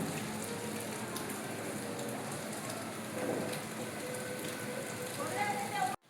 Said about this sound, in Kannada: ಆಚೆ ಕಡೆ ಮಳೆ ಬರ್ತಾ ಇದೆ.